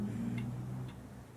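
Clock ticking with three faint, evenly spaced ticks about half a second apart over a low background hum.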